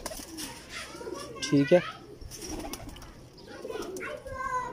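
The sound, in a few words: old teddy pigeons cooing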